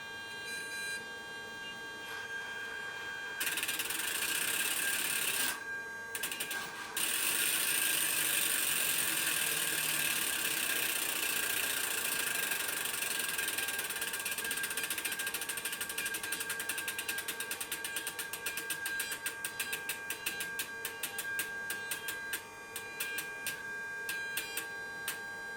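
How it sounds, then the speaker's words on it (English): The stepper motor of a Sperry MK9 compass computer ticks in a fast, steady mechanical stream while it corrects the heading, a faint, close, regular clicking over a constant electronic hum. "You can hear the activation of the stepper motor for the correction"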